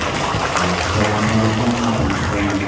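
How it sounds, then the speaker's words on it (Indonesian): An audience at an education authority briefing in Malang claps together, a steady wash of applause filling the short stretch, with a voice faintly present underneath. "Tepuk tangan Bapak Ibu."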